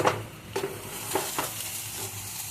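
Fried spice mix is stirred into an egg devil filling in a pan, giving a soft steady sizzle with a few light scraping strokes of the spoon, close and unaccompanied.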